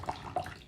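Hot water poured from a height over aged 1987 Everlasting Baozhong oolong leaves, a short splashing trickle with a couple of brighter splats, close and alone.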